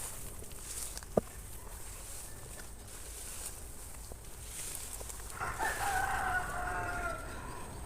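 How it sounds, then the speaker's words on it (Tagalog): A rooster crows once in the distance over a faint outdoor background, preceded by a sharp click. "Merong manok na tumitilawag yan."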